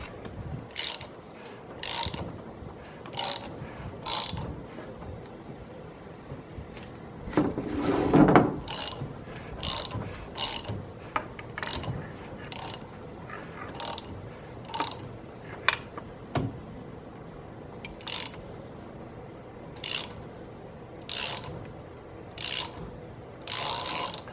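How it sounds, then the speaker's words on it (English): A harmonic balancer is pulled off a Chevy 350 V8 with a puller, giving repeated sharp metallic ratchet clicks and clanks at an uneven rhythm, close and fairly loud, with a heavier grinding burst partway through and no talk. "now the next step is we just we take our balancer off"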